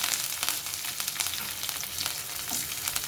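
Onion frying in hot oil with mustard seeds, cumin and curry leaves for a Telugu dondakaya (ivy gourd) fry, a steady dense sizzle and crackle with occasional pops, close and continuous without speech.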